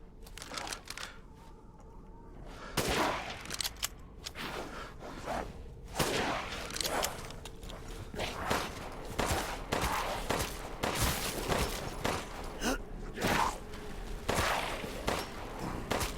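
Gunshots ring out in the survival horror game Resident Evil Village, a fairly quiet, rapid run of sharp cracks and clacks repeating irregularly throughout.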